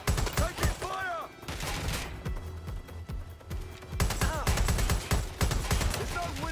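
Gunfire in Watch Dogs: Legion comes in close, loud bursts of rapid shots that pause briefly and then resume in dense volleys, mixed with game voices and other sound effects.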